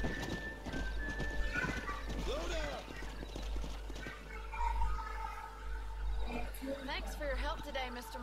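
Horse hooves clip-clop steadily at close range in Red Dead Redemption, joined by a brief whinny and snorting over a low rumbling game ambience, with someone talking over parts of it.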